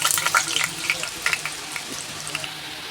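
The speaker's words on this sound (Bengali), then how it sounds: "এবার আলু ভাজা তেলে দিয়ে দেব দারচিনি, এলাচ, লবঙ্গ আর তেজপাতা" Whole cinnamon, cardamom, cloves and bay leaf crackle and sizzle in hot oil left over from frying potatoes, a close, steady frying hiss dotted with sharp pops.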